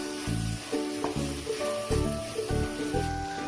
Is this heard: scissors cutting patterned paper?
no